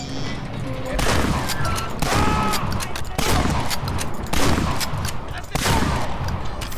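Shotgun fire in Medal of Honor: Allied Assault, a run of loud, close blasts at irregular intervals, each with a sharp crack and rumbling tail, over continuous game noise.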